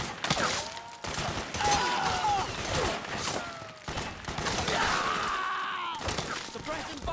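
Bursts of rapid gunfire in the video game Metal Gear Solid 4, crackling volleys amid shattering and combat noise, with soldiers shouting over the shooting.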